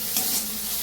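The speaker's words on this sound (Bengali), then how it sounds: "এই দেখো পেঁয়াজটা একটু মানে ভাজা ভাজা হওয়ার জন্য দিয়েছি।" Onions sizzle steadily in a hot pan, a continuous close hiss with a faint stir partway through.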